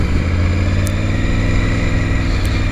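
Triumph Tiger 900 motorcycle engine running steadily, a loud continuous low throbbing drone held close for under three seconds with no talk.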